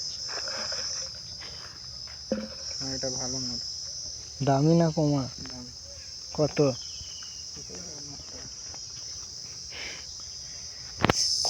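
Crickets chirp steadily in daytime woodland near Arambagh's Mayapur, a continuous high drone that runs under intermittent conversation between several people.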